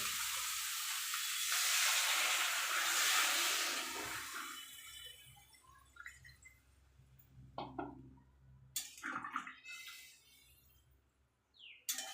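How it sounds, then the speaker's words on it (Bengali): Water poured into a hot pan of fried spice masala for cauliflower curry hisses and sizzles loudly for a few seconds, then settles into quieter bubbling with scattered clinks and stirring sounds. "এবার আমি জল দিয়ে দেবো"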